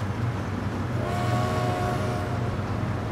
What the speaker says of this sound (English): Okay, so this train's going into the station.